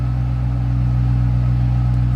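The supercharged 4.6 liter V8 of a 2008 Ford Mustang Saleen S281 idles with a loud, close, deep and steady rumble through its exhaust, continuous and unbroken throughout.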